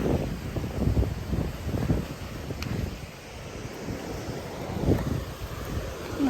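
Sea waves wash onto the coast of Japan, a steady broadband rush of surf blended with gusty wind buffeting the microphone, swelling and easing in irregular surges close by.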